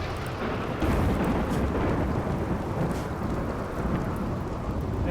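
Heavy rain pouring down in RimWorld, a rainstorm quenching a big fire around a colony base, with a steady dense hiss and occasional thunder-like rumbles, loud and continuous throughout.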